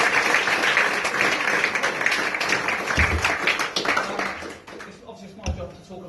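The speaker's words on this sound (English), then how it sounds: "So I think he definitely deserves a big round of applause from everyone." Audience applause and clapping at a football club's end-of-season presentation evening, a dense, steady crowd clatter that thins and fades toward the end, with scattered voices mixed in.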